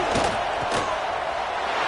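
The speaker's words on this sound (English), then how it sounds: "this crowd coming to life here, trying to help the defense get a stop" A stadium crowd at a Nebraska versus TCU college football game roars in a continuous loud wash of cheering, with a couple of swelling surges in the first second.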